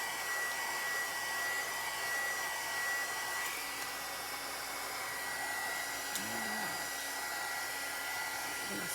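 Hair dryer blows on painted canvas decor to dry the paint, a loud, steady close whoosh held for the full nine seconds with no talk.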